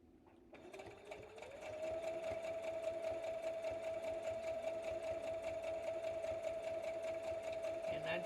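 A sewing machine stitches a quilt, starting with a few soft clicks before settling into a steady, fast, even whir that runs close and continuous to the end.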